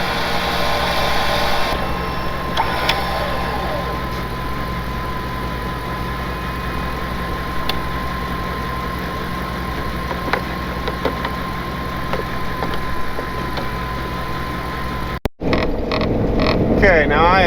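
A tracked Jeep's engine runs steadily as the vehicle backs out during a recovery of a Chevy off an edge, a continuous low idling rumble throughout with a brief dropout near the end.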